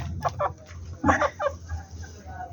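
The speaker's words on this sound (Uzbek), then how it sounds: "Mana shu birinchi xo'roz bo'ladi." A rooster, one of several being sold by a farm seller, gives short, raspy, clucking calls close by in quick bursts, with faint background noise between them.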